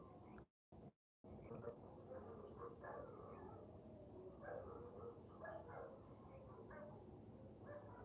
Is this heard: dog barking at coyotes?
yes